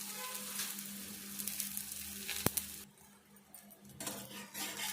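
Aloo chapati frying in oil on a pan gives a steady low sizzle with light crackle and a sharp tap partway through, fading quieter for a moment before the hiss picks up again.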